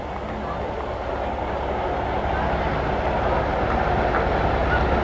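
A 1986 International 5,000 gallon tanker truck rolls by in a Labor Day parade in Mooers, a steady low engine rumble that builds slightly as it passes, with crowd and announcer sounds in the background.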